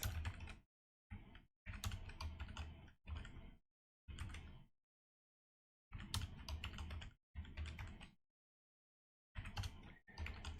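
Bursts of close, clicky typing on a computer keyboard while coding in Rust, rapid keystrokes in short runs separated by silent pauses.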